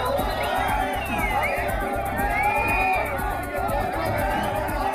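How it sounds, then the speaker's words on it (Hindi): Large crowd at a Hindu rally in Uttarakhand shouting slogans, a dense, continuous roar of many voices with rhythmic chanting and cheering, close and loud throughout. "लोगों ने नारेबाजी शुरू कर दी।"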